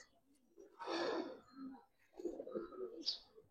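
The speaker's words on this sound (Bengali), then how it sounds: "একদম পুরান জাতের সিলভার কবুতর।" Old-breed silver pigeons, kept in a seller's loft, give a few low, throaty coos in two rolling bursts. The sound is close but fairly quiet, and a brief high chirp comes near the end.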